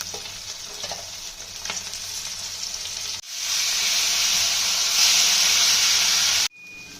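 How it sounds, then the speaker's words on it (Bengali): Rohu fish pieces frying in hot oil in a kitchen pan, a steady loud sizzle that surges louder partway through and then cuts off abruptly near the end, with no talking. "মাছগুলো প্রায় ভাজা হয়ে এসছে, আমরা তুলে নেব।"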